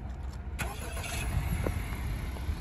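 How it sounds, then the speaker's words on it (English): A 2020 Honda Accord EX-L 2.0 starts by remote start: a short cranking burst near the start, then the engine settles into a steady, fairly quiet low idle heard from outside. "The car does have a remote start."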